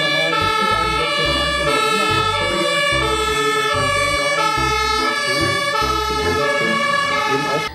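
A toy ladder fire truck sounds its electronic siren, a loud wailing two-tone pattern repeating steadily for several seconds close to the listener.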